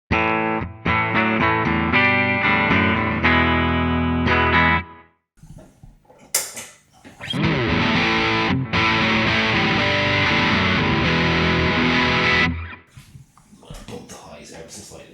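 An electric guitar through the distortion side of a Fulltone GT500 pedal plays loud sustained distorted chords and riffs, close up, with brief pauses between passages.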